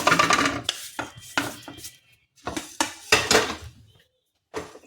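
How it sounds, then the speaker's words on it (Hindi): Dry red chillies, coriander, ajwain and cumin seeds are stirred and tossed in a hot frying pan, giving close, intermittent scraping and rattling bursts separated by short pauses. "इसको सब चीज़ को डाल के फ्राई पैन में भून लेंगे।"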